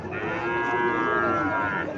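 A Sahiwal bull calf moos loudly and steadily for about two seconds, close by, at a cattle sale near Chandnimura in Cumilla.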